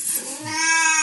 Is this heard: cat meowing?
yes